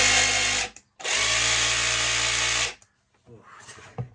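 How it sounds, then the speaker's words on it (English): A 12 V SDS hammer drill runs at close range in two loud bursts, a short one and then a longer steady whine, each stopping abruptly, followed by faint handling clatter. "It's an SDS hammer drill."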